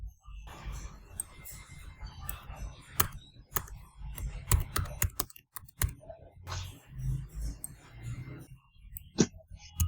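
Clicky keystrokes on a computer keyboard come in uneven bursts with short pauses, close and fairly quiet, as someone types a test value into a form.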